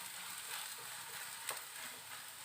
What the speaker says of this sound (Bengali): আলুটা একটু এই পেঁয়াজ আদা রসুনের সাথে একটু ভালো করে একটু নাড়াচাড়া করে নিতে হবে